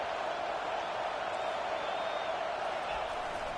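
Dense, steady stadium crowd roar from College Football 25 builds on a third-down play, a constant wash of cheering voices with faint whistles, filling the whole span with no pauses.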